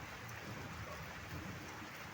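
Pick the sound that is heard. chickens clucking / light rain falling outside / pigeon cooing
light rain falling outside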